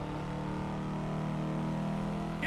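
A car engine in a driving video game revs as it accelerates, a steady tonal drone that climbs slightly in pitch, heard alone.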